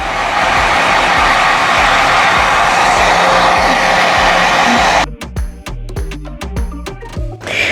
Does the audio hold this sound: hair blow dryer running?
yes